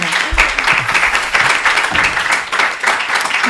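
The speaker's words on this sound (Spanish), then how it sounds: "Un aplauso para Noelia García Pérez, por favor" Audience applause for a singer at a Murcia arts event, steady dense clapping from a crowd lasting several seconds, fairly loud and without talk over it.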